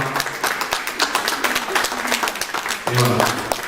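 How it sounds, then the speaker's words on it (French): An audience at a Pink October breast cancer awareness event in Champigny-sur-Marne applauds, with steady dense clapping throughout and a voice speaking briefly over it near the end. "je vais vous demander d'applaudir, s'il vous plaît. Applaudissez."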